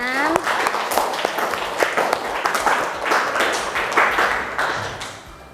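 A classroom of students applauding a group that has just finished presenting, with a burst of brisk, fairly close hand clapping that holds steady for several seconds and then starts to thin out.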